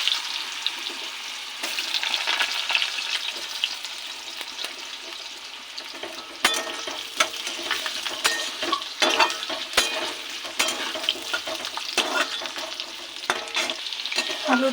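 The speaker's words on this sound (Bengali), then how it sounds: "আলুটাকে ভাজবো।" Potatoes fry in hot oil in a wok after spices are tempered, with a steady broadband sizzle and repeated scraping and clinking of a spatula as they are stirred, close and alone with no talk.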